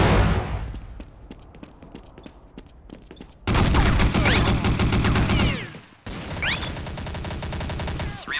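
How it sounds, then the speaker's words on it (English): Counter-Strike Condition Zero gameplay on the cs_havana_cz map, with loud sustained bursts of automatic gunfire in rapid volleys, a short lull, then heavy firing resuming close by. "Taking fire! Need assistance!"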